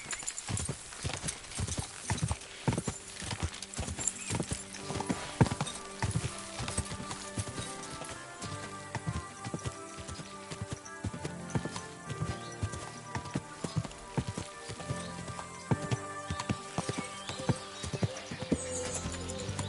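Horse hooves clip-clop steadily on a road in the medieval game Kingdom Come: Deliverance 2, a close, rhythmic trot running throughout over a busy game soundscape with no voices.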